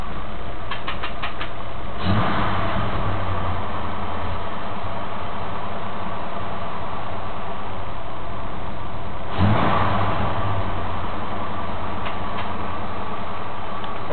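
A 1990 Mustang engine, started after sitting for four years, idles with a steady rumbling drone, and two brief revs lift it about seven seconds apart.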